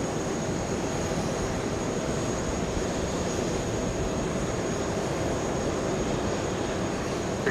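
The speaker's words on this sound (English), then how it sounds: "There you go, nice and smooth for Royal Air Maroc." Royal Air Maroc airliner touching down at JFK airport on a hot summer day, heard as a steady, loud broadband roar of jet engines and rushing air that holds constant throughout with no speech.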